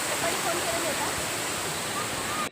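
Steady broadband rush of the Panval waterfall in Ratnagiri, Konkan, a continuous loud roar of falling water heard close, with no talk over it.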